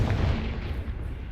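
The Confringo fire spell in Hogwarts Legacy goes off as a heavy, rumbling blast, a loud, deep boom that rolls on briefly without any talk.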